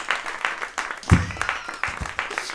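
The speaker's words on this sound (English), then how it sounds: "Can we just give a round of applause to ourselves for being here tonight" A comedy-show audience applauds in a short burst of clapping, fairly near, lasting only a couple of seconds.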